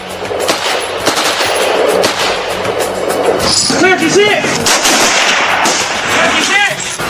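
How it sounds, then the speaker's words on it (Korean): Rifle gunfire rings out during military shooting practice, with rapid cracking shots and bursts at a moderate distance, mixed with talking voices. "그의 사격 실력 어떤지 한번 볼까요?"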